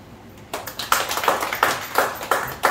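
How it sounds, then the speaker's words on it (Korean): Audience clapping at a Korean community school gathering, sparse and uneven with distinct individual claps in an irregular rhythm, fairly close and without talk. "박수 한번 쳐주십시오."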